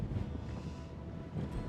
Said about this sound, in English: It's crazy how windy it is right now.